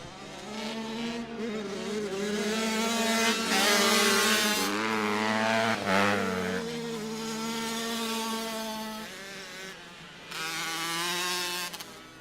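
Several small Kawasaki and Honda motocross bikes, including a Kawasaki KX65, race around a dirt track with whining, rising and falling engine revs that overlap continuously, loud and fairly close throughout.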